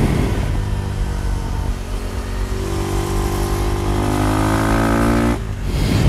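A KTM Duke motorcycle riding on new Pirelli Diablo Rosso 3 tyres, its engine loud and close, revving up through rising tones before easing off sharply near the end, with no talk.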